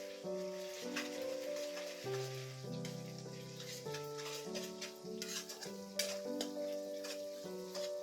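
Onion with ginger and garlic paste frying in a pan for Amritsari chole, a faint continuous close sizzle with crackles under steady background music, no talk.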